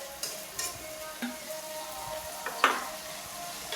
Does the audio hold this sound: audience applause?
no